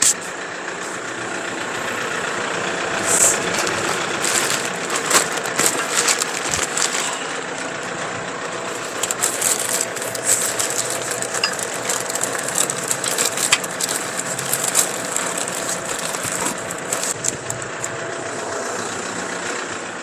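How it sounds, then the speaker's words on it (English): A tractor engine idles nearby during a restoration job, a continuous rumbling drone overlaid with rattling, clanking mechanical noises and scattered sharp clicks for the full stretch. "we'll leave the tractor running"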